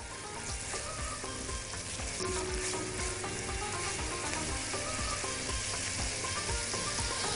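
Onions frying in a pan with raisins and grated carrot for carrot mujaddara, a steady close sizzle with light stirring scrapes throughout and no voices.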